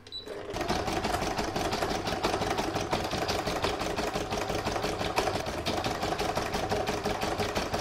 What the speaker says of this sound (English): I'm now going to stitch the little flower motif here, and that's round number 10.